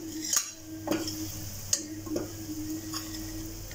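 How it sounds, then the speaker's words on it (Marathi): Malvani masala is stirred and sautéed in hot oil in a pan, a soft sizzle under intermittent spoon scrapes and clinks against the cookware, with no talking. "थोडा तेलात परतूया,"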